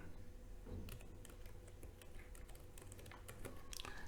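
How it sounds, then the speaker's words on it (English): Typing on a computer keyboard while entering a server name into a database connection dialog, a quick run of irregular key clicks over a steady low background hum, no voices. "type in your server name"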